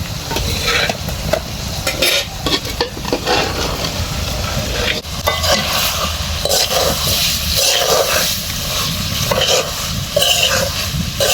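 Beef and potato pieces are stirred in a hot wok, producing a loud, constant sizzle with scraping stirring strokes layered on top, close up and without pause.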